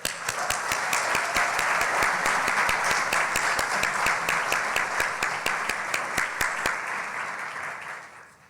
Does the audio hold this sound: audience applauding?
yes